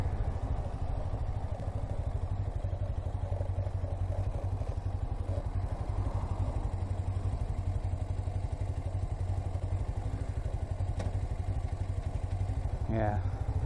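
A Suzuki motorcycle engine drones steadily while being ridden, muffled and continuous, from a bike that struggles with downshifts; a faint rising whine comes in near the end.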